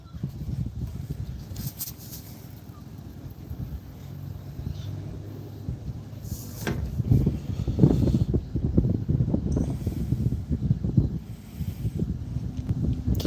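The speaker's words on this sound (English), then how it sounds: "the wind is picking up a little bit" Outdoor wind gusts against the microphone as low, rumbling buffeting that swells and grows stronger toward the end, with faint rustling over it and no clear talking.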